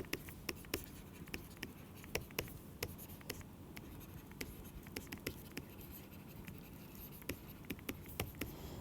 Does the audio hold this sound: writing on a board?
yes